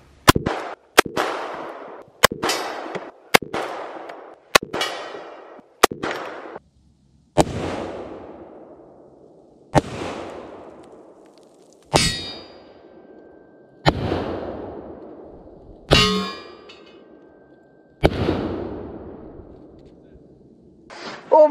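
A Desert Eagle pistol emptied at a forged aluminum wheel: about a dozen loud, sharp gunshots at irregular intervals, each with a ringing tail, the later shots spaced further apart, with a metallic clang near the end.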